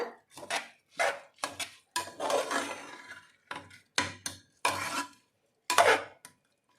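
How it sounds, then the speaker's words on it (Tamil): Soaked rice for coconut rice is sautéed in a pan, heard as separate scraping strokes of a spoon through the grains, about nine short bursts with brief pauses between them, close and fairly quiet. "சேர்த்துட்டு எல்லாத்தையும் நல்லா ஒரு தடவை வதக்கி விட்டுருங்க."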